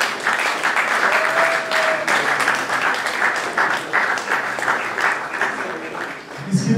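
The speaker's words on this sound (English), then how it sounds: "Please keep clapping, keep clapping." A graduation ceremony audience applauds steadily, a dense, loud wash of many hands clapping that carries on without a break, with a brief tone and some background voices mixed in.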